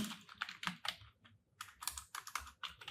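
Quiet, close typing on a computer keyboard while writing C code, bursts of rapid key clicks separated by short pauses, no voices.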